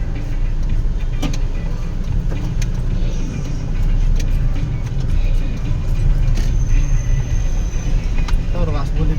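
A manual car cruising along a city boulevard while overtaking, with a steady engine and road hum throughout, a few faint clicks and rattles from the cabin, and the driver talking over it.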